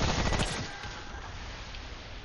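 Video game gunfire in Remnant: From the Ashes, a quick burst of rapid shots up front that trails off into a busy, rumbling backdrop.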